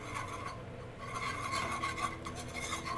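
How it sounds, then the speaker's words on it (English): A whisk stirs flour into melted butter for a roux in a pan, a soft, steady rasping scrape that continues evenly and close at low volume. "we're gonna grab our whisk, and we're gonna whisk it gently while this is happening"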